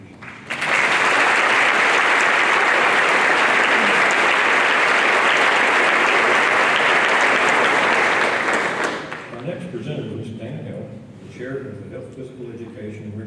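A large audience at an evening honors ceremony claps loudly and steadily for award honorees, a dense sustained applause lasting about eight seconds before fading out as a voice begins speaking.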